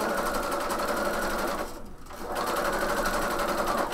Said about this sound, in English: The only thing I'm doing right now is I'm stitching